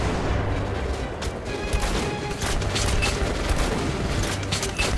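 Gunfire in the Metro: Last Light Redux video game crackles in rapid, repeated bursts with mechanical clatter, a dense fusillade sustained throughout.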